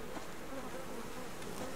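Many bees hum continuously near a tree in the survival game Subsistence, an even, soft buzzing drone that holds steady from start to finish.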